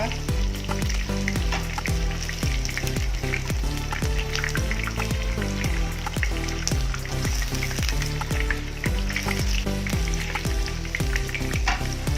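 Chicken wings frying in hot oil, a steady loud sizzle and crackle with rhythmic stirring scrapes throughout, close up and uninterrupted.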